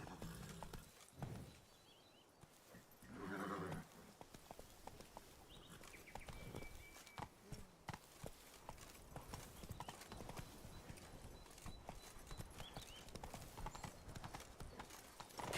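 Roach, Geralt's horse in The Witcher 3, clip-clops along in a steady run of hoof beats, with a brief whinny and scattered background game sounds, no talk over it.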